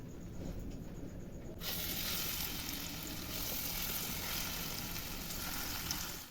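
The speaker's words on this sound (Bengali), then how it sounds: "তেল গরম হয়ে গেছে, এবার আমি ডালের বড়া ভাজবো।" Lentil fritters (dal bora) dropped into hot oil, a brief quiet lead-in giving way to a loud, continuous sizzling hiss that holds steady to the end, with no talk.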